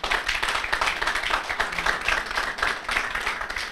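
An audience claps for award winners at a university moot court competition, a loud, lively burst of many hands with a slightly pulsing rhythm, sustained across the whole stretch.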